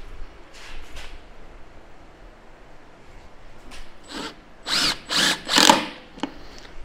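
A power drill drives reused, worn tech screws into a SAAS racing seat in three loud, close bursts near the end, after quieter clicks and handling noise.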